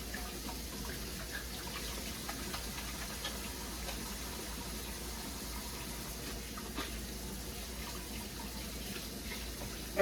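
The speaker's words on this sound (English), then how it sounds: "make sure to wash your hands after you've done that" Tap water running steadily into a sink as hands are washed, a constant close splashing hiss that holds throughout with no voices.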